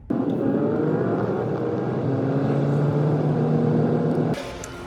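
Car driving on the road heard from inside, a steady droning engine hum with tonal whine and road rumble that holds level, then drops quieter near the end.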